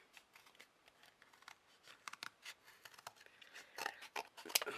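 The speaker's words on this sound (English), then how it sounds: "it's just a piece of card I've got, I might just cut a circle out." Scissors cutting a circle out of a piece of card for a miniature craft: rapid, uneven snips and rustles up close. The snips grow denser and louder toward the end, with no talking.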